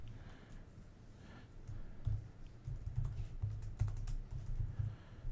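A password is typed on a computer keyboard: a close, rapid run of soft key clicks with uneven rhythm. It is quieter at first and grows busier toward the end, with no talking.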